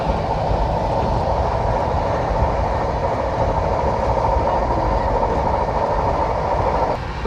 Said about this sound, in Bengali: বাইরের ট্রেন তো হু করে যাচ্ছে